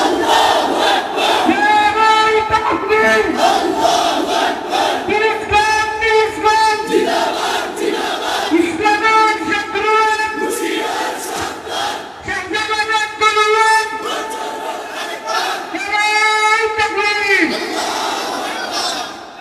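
Large crowd at a religious gathering chanting slogans in loud, rhythmic collective bursts, repeated call after call with brief pauses between, near and filling the space.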